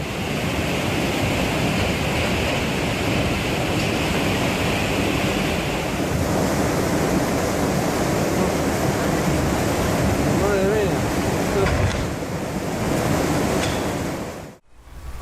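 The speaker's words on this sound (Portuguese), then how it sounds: "há uma grande tempestade no mar e as ondas chegam a 2 metros de altura" Large storm waves crashing on a coastline during a big sea storm, with waves reaching about two meters, a loud continuous roar of surf and wind that drops out abruptly near the end.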